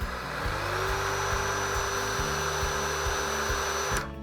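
Battery pruning chainsaw switched to turbo speed, whining in a steady high-pitched electric hum that rises in pitch early on, then cuts off abruptly near the end.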